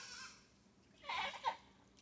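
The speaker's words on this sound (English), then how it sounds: "we're raising Nigerian dwarf goats" Nigerian dwarf goats kept on a country property give one clear, wavering bleat at moderate distance, rising and then breaking off after a brief quieter lead-in, with no talking.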